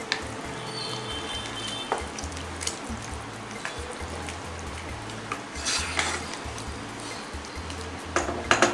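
Bhindi masala of okra with kitchen king masala cooking down in a pan until thick, giving a steady close sizzle and bubbling with occasional stirring scrapes and light clinks, no voices.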